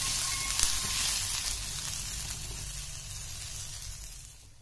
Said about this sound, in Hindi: मीडियम फ्लेम रखकर प्याज को भी लाल करेंगे और सारे मसाले भी भुन जाएंगे इसमें